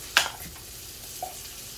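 Garlic tossed into a hot pan while cooking salmon, a short sharp sizzle burst that settles into a quieter crackling fry over under two seconds, close and alone.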